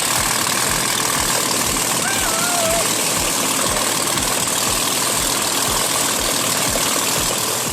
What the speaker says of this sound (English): When the Meteor fires up, it's not just an engine start.